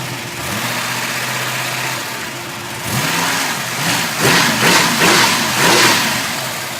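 An engine runs with zero oil pressure while a red dash warning light blinks, idling steadily at first and then revving in several loud surges, close by with no talking.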